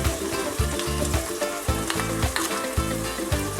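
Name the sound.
egg poured into hot pan, sizzling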